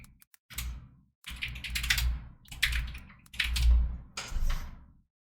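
Someone types on a computer keyboard in quick clustered bursts of clicking keystrokes, with brief pauses between four or five flurries, close and fairly quiet.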